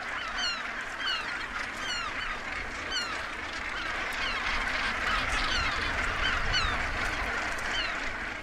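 Dense gannet colony packed onto a sea rock, many harsh honking calls overlapping continuously at close range, a loud and steady chorus with no pauses.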